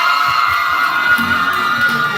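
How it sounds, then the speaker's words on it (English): A crowd cheers and whoops for a student called up at a high school valedictory ceremony, a steady bright roar of voices continuing throughout. "You hear them cheering you on"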